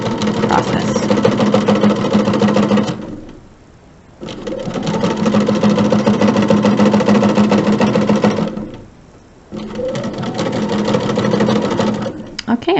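A sewing machine runs in three long, steady buzzing stretches while stitching fabric for a flying geese quilt block, pausing briefly between runs; the motor hum is close and loud.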